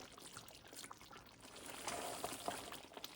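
Water poured into mutton cooking in a pan for a mutton Mumtaz curry, a soft trickling splash that rises toward the end of a short stretch, fairly faint with no talking.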